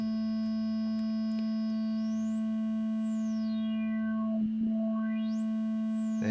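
A synthesizer tone passes through a filter whose cutoff sweeps up and down, giving a steady buzzy drone with a whistling sweep that rises, falls and rises again.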